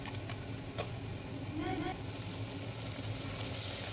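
Steady broadband sizzling of green chillies and tomatoes frying in a pan, with a brief scrape and a faint voice partway through.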